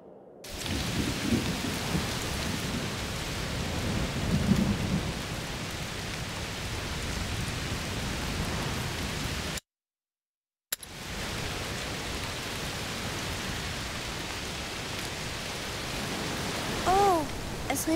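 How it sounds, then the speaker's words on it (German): Heavy rain pours steadily in the video game A Plague Tale: Requiem, with rumbling thunder, a dense, continuous downpour that briefly cuts out and resumes. "Es regnet ganz schön doll."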